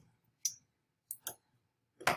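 Three quick, crisp computer mouse clicks in a quiet room while choosing Next during a Google Classroom login, one single click followed by a close double click.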